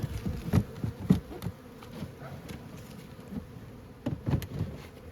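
Honeybees buzz in an apiary in early spring, a continuous low droning hum of many insects around the hives with occasional closer fly-bys, steady and moderately loud.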